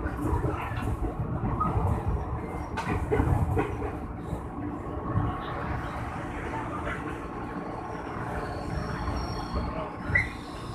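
A KRL Commuter Line train, a JR 205 series set, pulls into Depok Baru station with a steady low rumble, rattling carriages and high wheel squeals as it slows.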